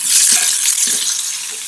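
Small onions and green chillies fry in a pan with a loud, close, bright sizzle that keeps going for the whole moment, along with a few soft stirring knocks.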